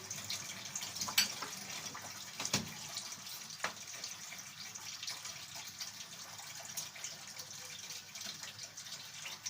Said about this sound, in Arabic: نفتح الميه كده.